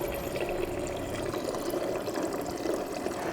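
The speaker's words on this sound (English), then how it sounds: "That's water from the fridge you're hearing for the tea." Water pouring from a fridge dispenser into a cup for tea, a steady, faint trickling stream running continuously.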